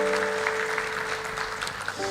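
A church congregation claps in thanks after a ministry segment, a moderate, continuous patter of applause under a sustained instrumental tone, likely a keyboard, holding through the whole stretch.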